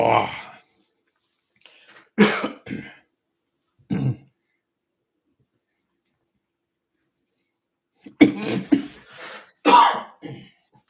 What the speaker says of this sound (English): That coffee was good. So good and made me cough.